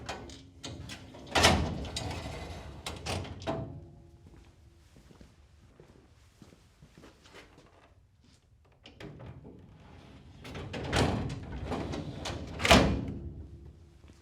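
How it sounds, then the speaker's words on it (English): Drawer carriages and drawers slid into a Tekton tool cabinet: two bursts of rolling, scraping metal and knocks, separated by a quiet stretch, recorded close up with no voices. "Insert the missing drawer carriages and drawers."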